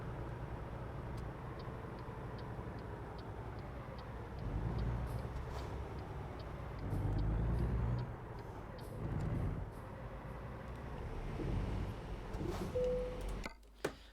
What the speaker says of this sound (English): Oh, sweet, I can hear the other lorry.